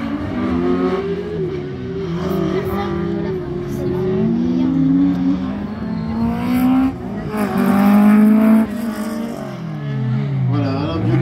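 A BRC 05 Evo race car, number 40, runs a slalom track, its engine revving and rising in pitch through the gears, loud and continuous, while a commentator speaks over it.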